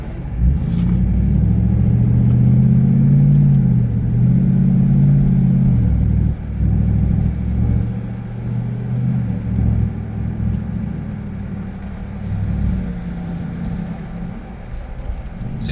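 A 2022 GMC AT4X pickup fitted with an S&B cold air intake accelerates, its engine a deep, loud rumble that swells, drops back around six seconds, then builds again with a puttering, throaty tone.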